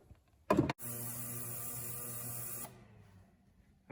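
Harbor Freight ultrasonic cleaner running an eight-minute cleaning cycle, with a short clunk and then a steady, even electric hum with a high whine that holds for about two seconds before dropping to a quieter drone.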